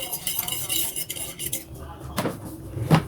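A spoon stirring instant yeast into ice water in a bowl for a cromboloni-style rolled doughnut dough, quick close scraping and clinking of metal against the dish, with a few sharper clinks near the end.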